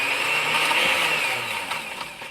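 A blender sound effect from a sound-search video game whirs with a steady, high motor whine, loud and close, easing slightly toward the end.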